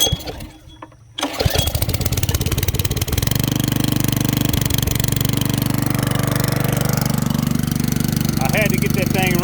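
A small gasoline engine with a carburetor on a septic pump cranks with a short rattle after a quiet moment, catches and settles into a loud, steady, close-up running drone, with voices heard briefly over it.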